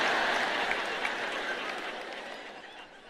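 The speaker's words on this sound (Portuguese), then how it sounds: "Bem, isso não merece tantos aplausos," Applause from a large audience at a religious ministry gathering, a dense steady wash of many hands clapping that fades gradually, heard alone.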